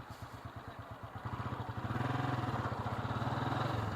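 A motorcycle engine runs close by, starting with a rhythmic, pulsing idle, then growing louder and steadier at about the two-second mark and holding a continuous throbbing putter to the end. No one speaks.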